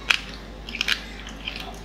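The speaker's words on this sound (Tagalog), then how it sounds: "Unahin ko yung malutong na part." Someone bites into the crispy skin of a refrigerated roast pig head, lechon ulo, giving a few sharp, close crunches at the start and middle, then softer chewing.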